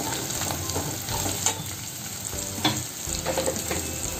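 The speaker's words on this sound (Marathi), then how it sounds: "गॅस कमी ठेवून चांगले परतून घेऊया." Turmeric and garlic being stir-fried in a pan on a low flame, a steady soft sizzle with scraping stirs and a few louder clanks of the spatula, close by and with no talking.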